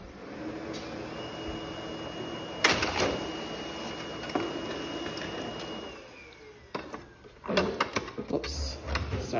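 A home inkjet printer runs a page through, with a steady mechanical whir broken by sharp clunks and feed clatters, heard close at moderate volume.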